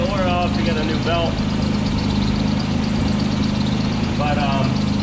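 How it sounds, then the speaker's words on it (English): A 1987 Nissan 300ZX Z31 engine runs steadily at idle after being restarted, a constant close mechanical drone with low rumble throughout, while a voice talks briefly near the start and again near the end. "the car is started. It is running."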